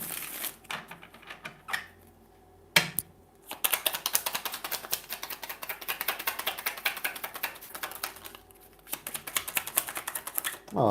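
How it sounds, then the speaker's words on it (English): Rapid, crisp riffling clicks of tarot cards being shuffled up close, in quick bursts separated by short pauses. "One more shuffle here."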